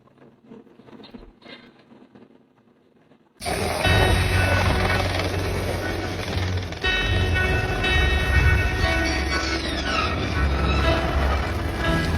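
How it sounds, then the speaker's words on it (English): After a brief quiet stretch, a helicopter roars in loud and close with a harsh, buzzing, chainsaw-like rotor and engine drone, sustained with shifting whines as it maneuvers. "That's like a chainsaw helicopter."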